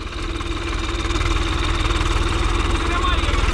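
Swaraj 855 FE tractor engine running steadily in second gear, a loud, close, continuous low throbbing drone with a rhythmic knock that holds for the whole stretch.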